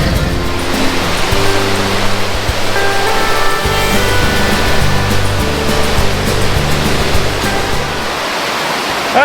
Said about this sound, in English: Alright, so we found this little waterfall.